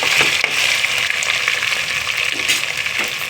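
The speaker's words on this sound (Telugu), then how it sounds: "వేగిందండి ఇప్పుడు మసాలా ఆకు పచ్చిమిర్చి వేసుకోవాలి" Spice leaf and green chillies fry in hot oil for a spicy boti curry, giving a loud, steady, close sizzle with occasional faint stirring.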